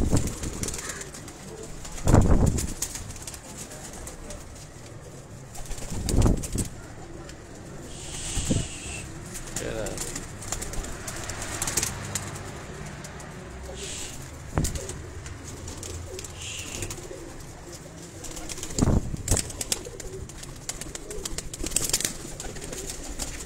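Champion breeder pigeons on a rooftop coo on and off over a long stretch, fairly soft and close, with occasional wing flaps and sharp handling knocks breaking in.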